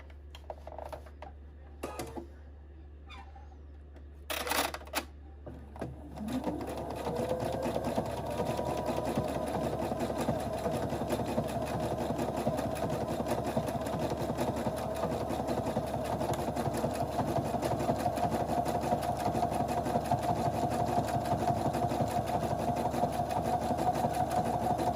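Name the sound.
sewing machine stitching a pocket tissue holder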